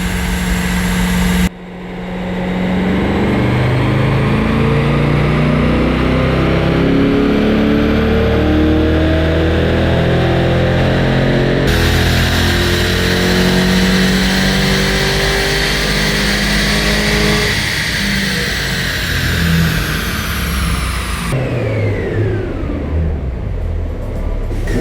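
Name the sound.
2024 Corvette E-Ray revving on a dyno run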